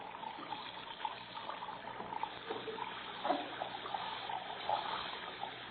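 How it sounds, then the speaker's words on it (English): Water running steadily from a sink tap and splashing onto a floor in a 1945 radio drama, a soft continuous trickling hiss with small gurgles, fairly faint. "Plug up your base and let the water run on the floor."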